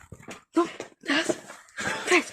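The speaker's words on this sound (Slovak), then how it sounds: "Pes." A dog whimpers and yips in several short, high, breathy bursts separated by brief gaps, close and fairly loud with no other sound in between.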